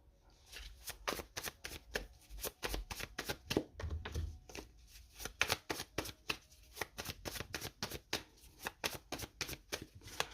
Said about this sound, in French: Allez, on va poser 3 cartes du tarot en plus.